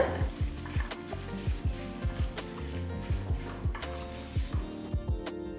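Mustard seeds, cumin and dried chillies sizzle in hot oil in a pan over a low flame, with a steady frying hiss broken by repeated light popping and crackling bursts, close and moderately loud.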